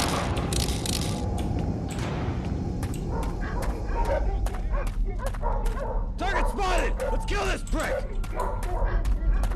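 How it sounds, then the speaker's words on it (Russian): A pack of dogs barks and yips from several directions in the Underhell video game, starting sparse and building into a frantic overlapping chorus, with someone speaking over it. "Слышу собак."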